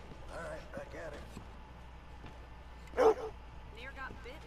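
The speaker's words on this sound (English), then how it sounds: "Near got bit by a goddamn dog." A dog in the video game Red Dead Redemption 2 gives one sharp, loud bark amid a few fainter yips, with people talking around it.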